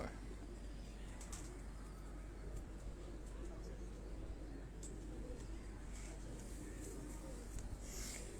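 Khaki pigeons coo softly on a Lahore rooftop, low murmuring calls repeating faintly under a quiet hiss of background noise with a few scattered chirps.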